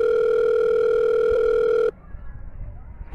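A telephone call tone plays as one loud, steady, unbroken beep with a clear pitch for nearly two seconds. It stops abruptly, leaving quiet background noise.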